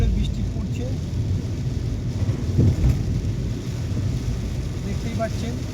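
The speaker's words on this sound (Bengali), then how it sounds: "বিশাল জোরে বৃষ্টি পড়ছে" Heavy rain pours down on a car travelling the Howrah–Kona–Salap road, making a dense, constant roar with deep rumbling underneath, loud and close throughout, while a person talks over it.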